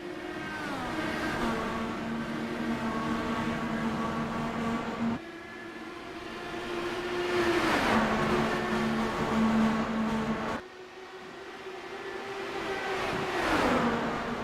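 IndyCar race cars racing at Michigan International Speedway scream past in three successive waves, each high engine whine building and then dropping in pitch as the car passes, with steady engine roar between passes.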